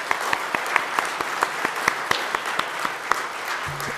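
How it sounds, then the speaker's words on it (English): Steady audience applause at a conference, a continuous wash of clapping with sharper individual claps standing out, moderately loud and without talk. "give Dr. Nordgaard a huge round of applause and thank him."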